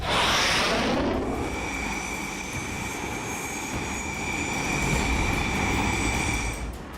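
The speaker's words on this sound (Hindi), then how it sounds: "भारतीय वायुसेना के लड़ाकू विमानों के साथ जंगी हेलीकॉप्टरों, अपाचे और चिनूक भी नजर आए" Indian Air Force fighter jets fly with Apache and Chinook helicopters during an exercise at a forward base near the LAC in Ladakh, producing a loud, continuous, close engine roar that swells and fades across several seconds.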